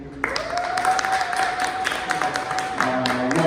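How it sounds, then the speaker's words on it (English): Audience members at an art show panel discussion applaud in a steady, moderately loud patter, with a sustained tone humming underneath for most of the burst. "give a quick round of applause to yourselves for being here"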